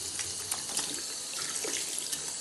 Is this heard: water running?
yes